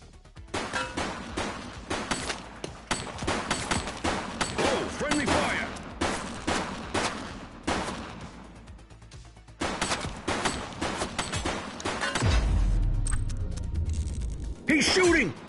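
Gunfire in the police video game The Precinct: rapid bursts of shots with metallic clanks, loud and close, in repeated volleys separated by brief pauses, with a low rumble near the end and voices speaking briefly.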